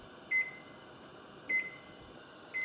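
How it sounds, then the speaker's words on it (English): Kitchen timer beeping during stovetop boiling of prickly pear juice, three short electronic beeps spaced about a second apart over a quiet background hum. "When the timer goes off, your juice should be clean."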